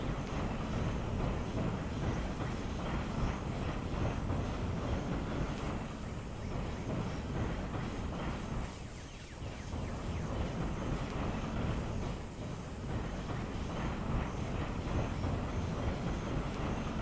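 A train in the video game Dinkum rumbles along steadily with a continuous rolling, windy drone at moderate level, dipping briefly midway; no talking.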